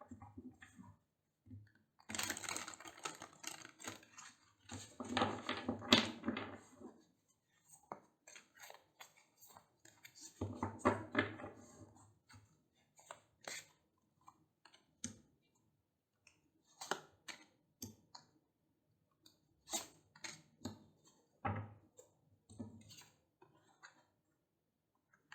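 Tarot cards shuffled by hand in a few bursts of dense papery riffling and slapping, with scattered soft clicks and taps of the cards between bursts, close and fairly quiet.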